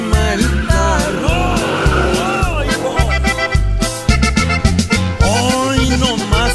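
A car skid plays as a sound effect inside a song, with loud tire squeal and skidding over the music's steady beat and bass for several seconds.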